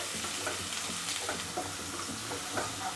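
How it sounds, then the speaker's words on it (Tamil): Green chillies, garlic and onion sautéing in a pan give a steady, close sizzle with soft scraping stirs throughout, no voices. "இப்போ இது எல்லாத்தையும் நம்ம வதக்கலாம்."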